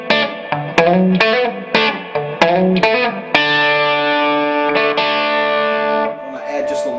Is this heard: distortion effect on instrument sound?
yes